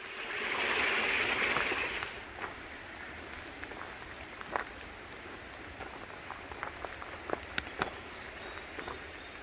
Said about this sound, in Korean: 물소리와 빗소리 그리고 진한 숲의 향기까지 정말 좋은데요